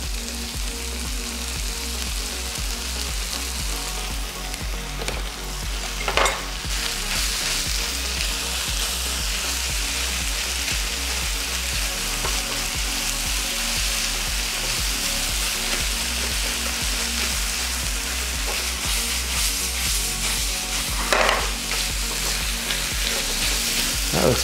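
Ground turkey mixture frying in a pan with sweet soy glaze and chili sauce for lettuce wraps, a steady close sizzle running throughout, broken twice by brief louder scraping stirs.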